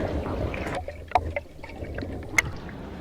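Motorcycle plating parts, from a 41-year-old CX500 restoration, move through a series of rinse tanks, giving soft watery sloshing and dripping with a few sharp splashes and clinks over a low steady hum.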